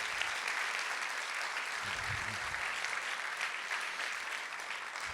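An audience at the closing speech of the Les Idées mènent le Monde 2022 event claps steadily, a dense, even wash of applause throughout with a brief low murmur partway.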